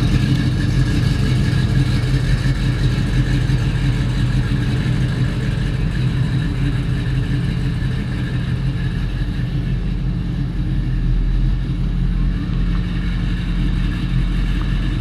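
A 1956 Chevy 210 post with a 502 big block V8 turning around nearby, a steady low engine rumble held at a constant idle-to-cruise level throughout, with no talk over it.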